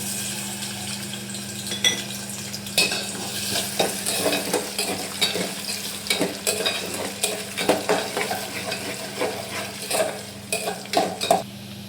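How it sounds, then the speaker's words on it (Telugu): Cut potato pieces frying and being stirred in hot oil, with steady sizzling punctuated by repeated scraping and clinking of a utensil against the pan, close and fairly loud, with no talking. "ఆయిల్ హీట్ అయ్యాక కట్ చేసుకున్న బంగాళదుంప ముక్కలు వేసేసుకున్నాం."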